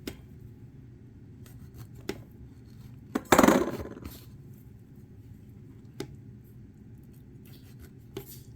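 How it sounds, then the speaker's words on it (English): A knife slices a peach into pieces on a cutting board, with a few sharp isolated taps against the board and one brief louder juicy cutting sound in the middle, in an otherwise quiet kitchen. "First, I like to cut it up into 8 pieces."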